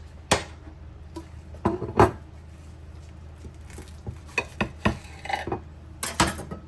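A knife slices through a homemade bacon ranch quesadilla, giving a run of sharp clicks and scrapes against the cutting surface in uneven bursts, close and fairly crisp, with no voices.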